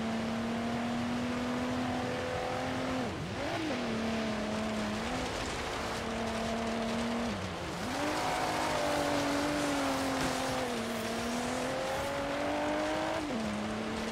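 A car doing a stunt run in a video game, a continuous whining engine tone that rises and dips with each gear change and throttle lift over about fourteen seconds, steady and fairly quiet, with no voices.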